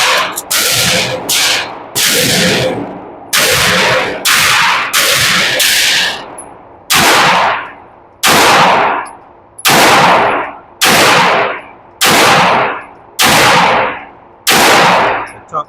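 A Canik SFX Rival S pistol fitted with LOK grips fires during a recoil test. Around fifteen loud, sharp gunshots ring out, each with a short echoing tail, first in quick bunches and then at a steady, spaced pace.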